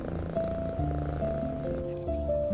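A small orange long-haired kitten purrs steadily up close, a soft continuous rumble carrying a few faint, higher meow-like tones, with no voices.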